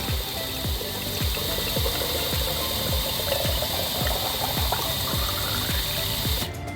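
A Hanchen HC-40 dual head peristaltic pump fills hot sauce bottles, its rollers giving a steady series of rhythmic thumps and squelches under a constant whir, close and fairly loud with no talking.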